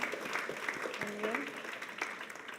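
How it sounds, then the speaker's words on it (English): Audience applause at the 2025 Medical Journalists' Association Awards ceremony, a steady patter of clapping across the room, with a brief voice or tone rising partway through. "Let's give them a round of applause"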